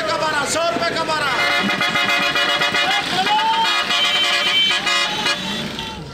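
Loud bus horns blare and toot repeatedly over the steady roar of heavy road traffic, a dense and noisy street scene.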